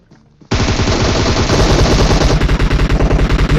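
Sustained automatic gunfire in a mobile shooter game erupts suddenly after a quiet moment, a loud, dense, rapid burst with a steady rhythm that carries on without a break to the end.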